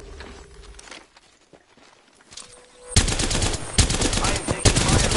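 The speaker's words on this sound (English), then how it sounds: "I am taking fire, friend." Rapid automatic gunfire erupts in a PS4 shooter after a quieter stretch of footsteps and distant shots, then continues as a loud, dense, sustained burst of close-range fire to the end.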